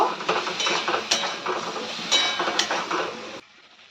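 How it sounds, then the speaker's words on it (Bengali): A spoon stirs a sour curry of taro and tamarind water in a pot, with repeated close scraping and clinking strokes that stop abruptly near the end. "এবার ভালো করে নাড়াচাড়া করে নেব"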